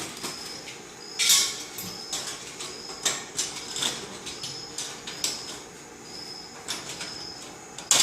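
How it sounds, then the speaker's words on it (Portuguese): Small metal cage closed around a mobile phone, a run of faint clicking, sliding and rattling metal sounds with sharper ticks scattered across the stretch, close but quiet. "Vamos fechar a gaiola."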